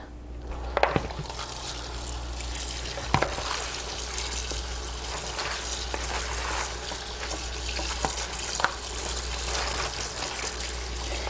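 Cabbage is rinsed under a running tap in a colander, a steady broad hiss of flowing water with scattered splashes and knocks throughout, close and moderately loud, with no talking.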